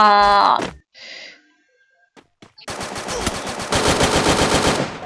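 Gunfire from a video game match comes as rapid machine-gun bursts filling the second half, after a short tonal sound effect and scattered clicks, loud and close with no speech.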